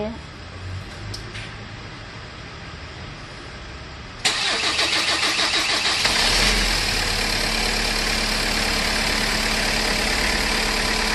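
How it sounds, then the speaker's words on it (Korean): A cold Kia Sorento R engine cranks and catches: quiet background at first, then a sudden loud start that settles into a steady, close idle roar, with voices briefly audible early on. "자, 시동 걸어주세요. 네, 키온하고."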